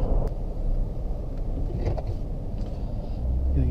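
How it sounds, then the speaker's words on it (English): A Hemi V8 engine rumbles steadily at an outdoor sport and travel show, with dense low-end throb holding constant throughout and some faint background activity on top. "We got the V8 going. Yeah, hello, Hemi."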